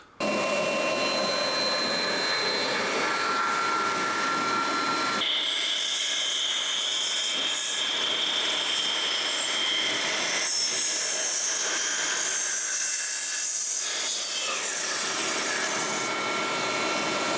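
A Makita LS1219L 12-inch sliding compound miter saw slices through a wide pine board, its loud steady motor whine running throughout with the pitch shifting as the blade bites into the wood and finishes the cut.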